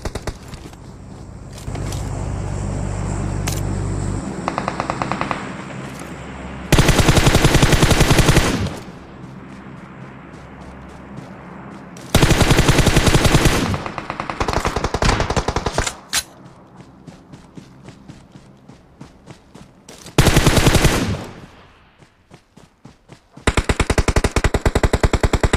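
Automatic gunfire in the mobile battle-royale game PUBG Mobile: loud, dense bursts of rapid shots recurring several times, separated by stretches of vehicle engine hum and quieter game ambience, with no talking.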